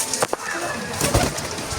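Pigeons cooing around a home in Jaffna, soft repeated coos close by with a few louder bursts, against steady outdoor background noise and no speech.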